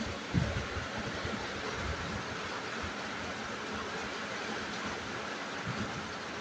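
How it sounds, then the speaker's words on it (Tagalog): Steady, dense rain hisses continuously at a constant level, with a few faint low knocks underneath and no talking. "malakas na naman po ang ulan"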